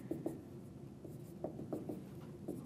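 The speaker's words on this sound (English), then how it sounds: "Let's write it that way." Marker or chalk writing on a board during a physics lesson on magnetism: a few short, squeaky strokes in quick bursts, fairly close, with no talking.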